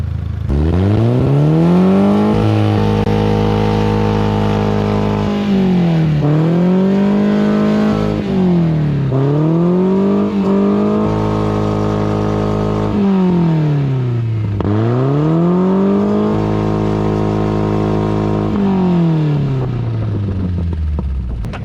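A Volkswagen car engine is revved hard over and over, each rise followed by a drop back toward idle, loud and close at an off-road event.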